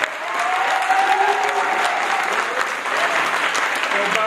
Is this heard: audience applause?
yes